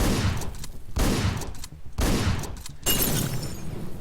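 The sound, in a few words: shotgun gunfire in the video game Hotline Miami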